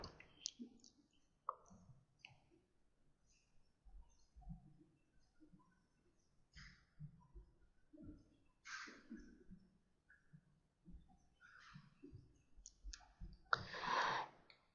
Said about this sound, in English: click on the edit and click on modify shared web part.